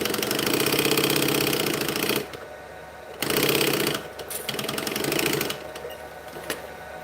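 A sewing machine back stitching runs in loud, close bursts of rapid mechanical chatter, stopping and restarting three times with short quiet gaps between.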